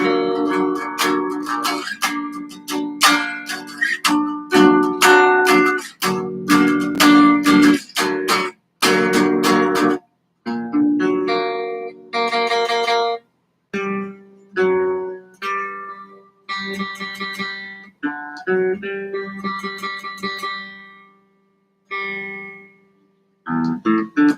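A guitar is strummed through a run of chords, full and sustained at first, then shifting to shorter, choppier strums with gaps between them, close and clear with no voices.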